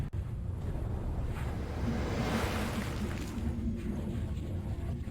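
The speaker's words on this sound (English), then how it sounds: "You can hear the roar of the tide, the splashing of the rain." Game ambience from Zork Nemesis: a continuous loud roar of crashing tide mixed with splashing rain, steady and dense throughout with no voices.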